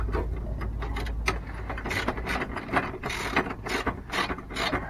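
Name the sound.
ratchet tightening emove motor mover on caravan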